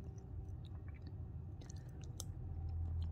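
Creamy buko pandan with nata de coco and green gelatin is being chewed up close, giving soft, wet, continuous mouth sounds with faint crisp clicks and no talking.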